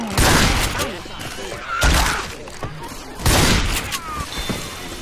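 Incendiary-ammo gunfire in the Left 4 Dead 2 zombie shooter on Xbox 360: three loud, close bursts of rapid shots about a second and a half apart, with game voices and shouting under the shooting.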